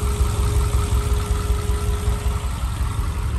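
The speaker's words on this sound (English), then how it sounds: "fires right up, sounds good, no smoke, stays nice and cool." A Subaru engine swapped into a 1971 VW Type 2 Westfalia camper idles steadily, a loud, even low rumble with a faint whine on top, continuous and close, with no voices.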